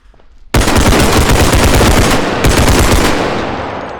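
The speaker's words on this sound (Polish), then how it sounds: "To jest chyba coś ala Scar. Zresztą tak brzmi Jakaś kuźwa mała armata." Sustained automatic assault rifle fire, SCAR-like, in a realistic bodycam-style first-person shooter game: a loud, dense burst of rapid shots that starts abruptly and runs almost without pause, briefly breaking before resuming and fading slightly at the end.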